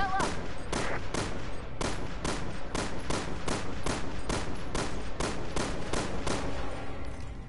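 Rapid rifle fire in a Resident Evil game, a long run of evenly spaced loud shots, roughly two per second, each a sharp crack with ringing tail, with no talking over it.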